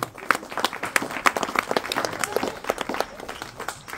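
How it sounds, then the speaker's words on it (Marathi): At a hypnotism comedy and stunt show in Jath, Sangli, the audience breaks into lively, rippling applause, with distinct sharp claps standing out from a steady patter for a few seconds. "जोरदार टाळ्या झाल्या पाहिजेत."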